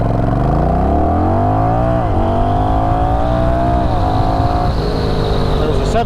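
Honda Rebel 1100 motorcycle engine accelerating hard toward 60 mph, a loud continuous drone rising in pitch through several gear shifts, with a rider's voice talking over it.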